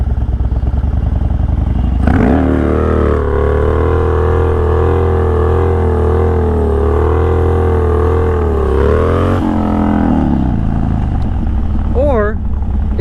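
A Harley-Davidson FXDX motorcycle with a near-bald rear tire rumbles close by, its engine note climbing as it pulls away, holding a steady drone, then dropping back to idle.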